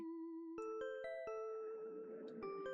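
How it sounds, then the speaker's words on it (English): A bell above a shop door in an art store video game gives a few soft chiming strikes with lingering tones, quiet and clear over a near-silent background. "The bell above the door rings subtly."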